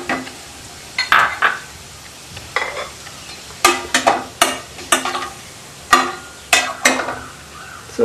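Fennel seeds splutter in hot oil with bay leaf, cardamom and cloves, bursting in sharp crackling pops that come in uneven clusters against a quiet hiss, close by.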